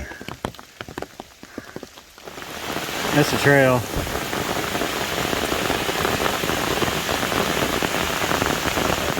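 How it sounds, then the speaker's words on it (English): Steady rain pours and patters on surfaces, loud and continuous after a few sharp taps at the start; a voice speaks briefly amid it. "Rain's getting a little bit tiring."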